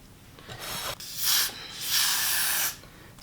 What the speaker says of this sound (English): I get my got to be glued and I just spray the hairline